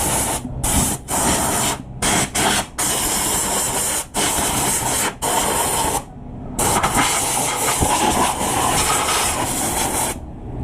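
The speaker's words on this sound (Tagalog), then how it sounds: "So linisan muna, hanginan natin." Compressed air blasts in loud bursts of hiss to clean an oil leak on a Motorstar Z200S motorcycle, a long run of spraying broken by several short gaps, with no talk.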